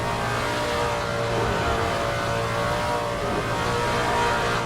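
A vintage Trans Am race car in Assetto Corsa runs at full throttle through a turn. Its engine gives a steady, loud, droning roar that holds through the whole stretch without a break.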